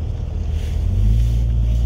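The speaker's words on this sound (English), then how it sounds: "Here's the ferry coming in now." Ferry boat pulling in at a terminal lane on a calm morning, a steady low engine rumble with wind noise that swells slightly as it nears, no talking.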